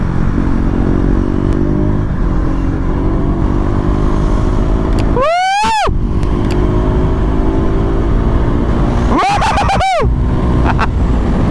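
A loud engine drones steadily up close, with two quick rising revs as it accelerates through gear shifts.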